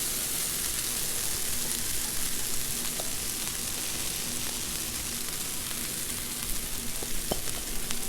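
Hash browns spread out in butter on a Blackstone griddle sizzle loudly and continuously, a dense, even frying hiss with a few faint ticks and scrapes and no talking.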